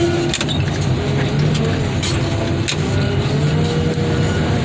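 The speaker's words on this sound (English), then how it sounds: "Get that compressor making more air. We just turned it on." An air compressor runs at a car crusher used for flattening Cadillacs, giving a steady, loud mechanical drone with some metallic clinks on top and no talking.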